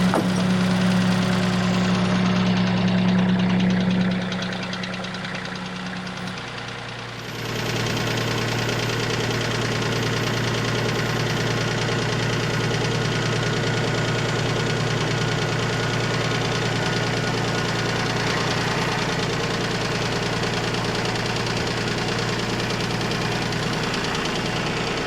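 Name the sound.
tractor engine running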